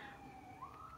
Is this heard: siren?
yes